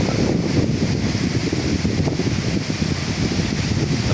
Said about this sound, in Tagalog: Lakas na naman ang hangin dito, malalaki na naman ang alon, malakas naman ang dagat oh.